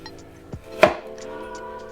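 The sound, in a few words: chef's knife cutting into an apple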